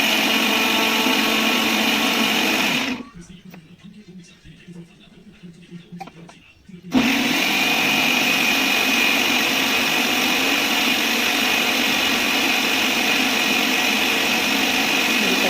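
A kitchen mixer grinder runs loud and steady, grinding chutney for dosa, with its whir dropping away for a few seconds in the middle before it resumes at full strength.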